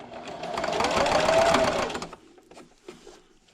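A sewing machine runs a short burst of stitching, backstitching at the start of a seam on a small St. Patrick's Day coin purse, a close rapid whir lasting about two seconds before stopping, followed by a few light clicks.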